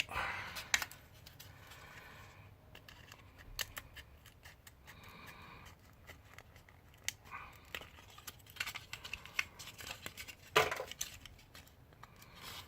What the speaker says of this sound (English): I take the bulk of that away with the Lexan scissors